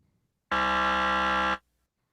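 A single loud, harsh electronic quiz-game buzzer lasts about a second, sharp on and off, with silence before and after.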